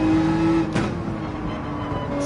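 Race car in Gran Turismo 7 at Daytona speedway, engine note steady then rising as throttle is reapplied, a brief burst of noise midway, loud and close without speech.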